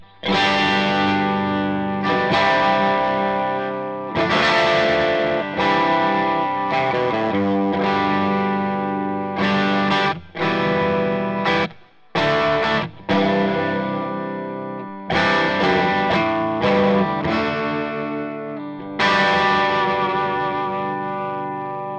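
Electric guitar through an overdrive pedal, gritty and saturated, played in strummed chords and short bursts with brief choppy gaps, loud and close.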